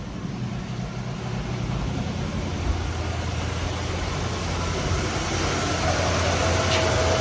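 A 1974 GMC Jimmy engine with a crusty carburetor idles a little high after sitting for 18 years, giving a steady, loud, unbroken rumble with broadband roar and no pauses, heard close by with no voices.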